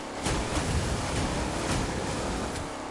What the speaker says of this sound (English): We're about to go hit the waves.